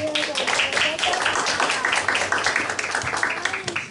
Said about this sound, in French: on peut encore les applaudir, le groupe de louange